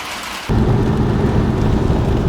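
Steady rain on a cold 42-degree morning at a farmhouse, a dense, loud hiss that starts abruptly and continues without a break, with no voices.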